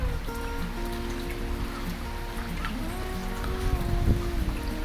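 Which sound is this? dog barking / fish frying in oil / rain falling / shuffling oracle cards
rain falling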